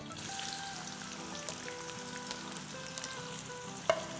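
Sliced onion fries in plenty of hot oil in a karahi for chicken karahi, a steady close sizzle with soft crackles and a brief clink near the end, no talking.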